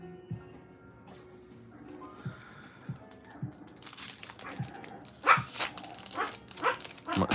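Small pet dogs bark excitedly in the background, including one called Little Beans, with scattered yips early on that build into louder, rapid bursts of barking toward the end, somewhat distant and alone without talk.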